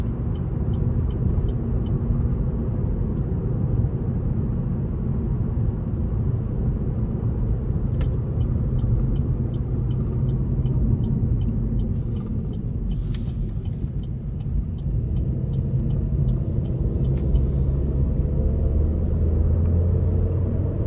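A 2020 Chevrolet Sonic Premier with its 1.4L turbo engine and front-wheel drive pulls away on the road, giving a steady, loud engine and road rumble throughout with a few faint clicks and ticks.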